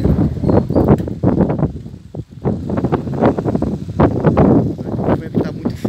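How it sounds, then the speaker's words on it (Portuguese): Strong wind gusts loudly across the microphone outdoors by flowering purple cashew trees in an orchard, a continuous buffeting roar with surges throughout. "O vento está muito forte aqui."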